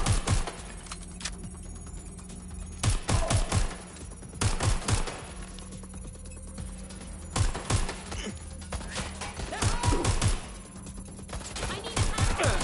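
Video game gunfire comes in repeated loud bursts of rapid automatic shots, separated by quieter stretches of background noise, close and punchy throughout.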